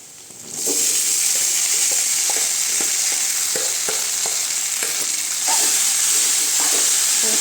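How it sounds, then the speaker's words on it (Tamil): Crumbled idli is stirred with fried onions in a hot pan, a steady close sizzle with rhythmic scraping strokes of the spatula, growing louder after a quiet start. "நல்லா கலரி விட்டுக்கலாங்க."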